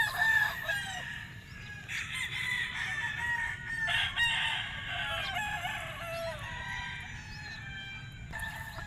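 Several young gamefowl stags crow one after another at a Batangas game farm, overlapping cock-a-doodle-doo calls of moderate loudness with occasional clucks between them.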